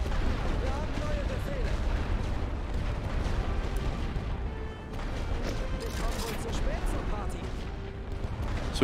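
Artillery barrages boom continuously in The Great War: Western Front, a World War I trench strategy game, a dense rumbling wall of distant shell fire with scattered bursts and pops, while someone talks over it.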